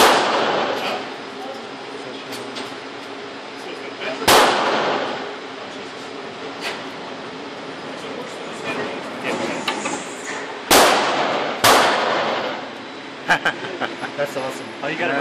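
Several loud gunshots from a Benelli M4 Super 90 shotgun crack out over a noisy outdoor background, with two close sharp blasts near the end and a few fainter reports between them, while people talk throughout.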